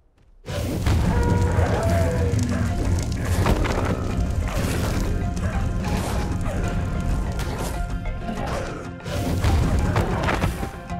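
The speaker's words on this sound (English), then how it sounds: "He has a fire breath." A dragon in Ark Ascended unleashes its fire breath attack, a loud, sustained roaring rush lasting several seconds, with crackling bursts and surges throughout.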